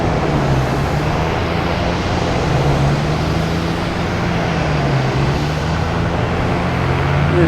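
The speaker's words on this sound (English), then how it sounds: "Yeah, JetBlue prop sound, all right." A JetBlue propeller plane at Boston Logan Airport, heard as a steady, loud engine drone with a low propeller hum that holds for the whole stretch, no talk over it.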